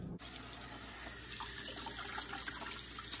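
Running tap water splashes steadily into a sink as salmon is rinsed before smoking, a continuous close hiss and patter with no talk.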